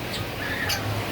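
Birds squawking in an aviary at a Costa Maya bird sanctuary in Mexico, a loud close harsh call rising over a steady outdoor hiss and a brief murmur of voices.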